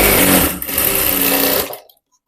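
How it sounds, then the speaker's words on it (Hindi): An electric sewing machine runs a steady, loud whir while stitching a half-collar blouse, close up, then stops abruptly and falls silent. "तो मैं सिलाई लगा दी हूँ"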